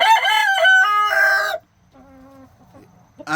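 A Cornish cross and American Bresse mix rooster crows loudly and close by in one harsh, drawn-out call, followed by a few softer low clucks and quieter bird sounds.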